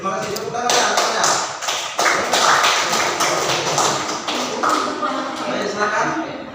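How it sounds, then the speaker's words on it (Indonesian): Classroom applause after a group presentation in an Indonesian teacher-training session, a dense patter of many hands clapping steadily for several seconds, fairly close and continuous with some murmuring voices underneath. "Tepuk tangan semuanya."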